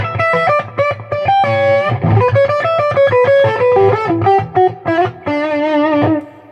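An electric guitar played through a Yamaha THR100H head into a stereo cab, a clean tone blended with a crisp distortion underneath, picks out a lively run of single notes and chords, loud and upfront with no talking.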